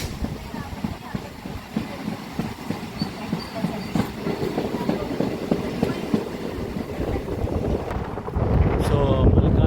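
An MMTS local train rumbles and clatters at Malkajgiri railway station in rainy weather, a dense, steady mechanical roar with rhythmic clicks, buffeted by wind noise and swelling louder toward the end.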